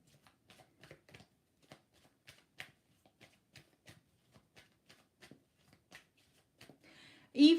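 Tarot cards are shuffled by hand, giving a steady series of soft, close riffling taps at an even rhythm, ending in a louder rustling burst.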